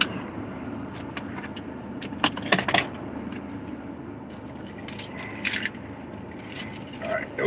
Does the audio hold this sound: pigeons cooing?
no